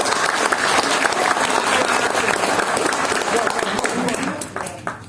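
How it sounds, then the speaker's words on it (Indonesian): A crowd claps in sustained applause at an LMU Group iftar gathering, dense and steady throughout before tapering slightly near the end, with voices mixed in. "Tepuk tangan untuk kita semua ya"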